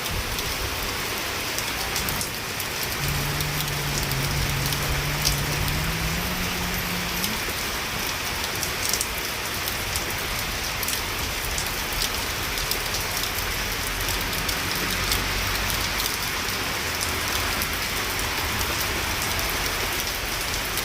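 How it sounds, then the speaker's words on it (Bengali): Rain falls in Italy outside near a shop, a steady, continuous patter and hiss of drops on surfaces that holds for about twenty seconds with no talking. "বৃষ্টি বৃষ্টি বৃষ্টি।"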